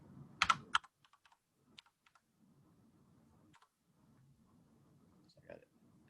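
A few quiet computer keyboard taps as a search term is typed, with a couple of louder clacks at the start, then sparse faint keystrokes over low background murmur.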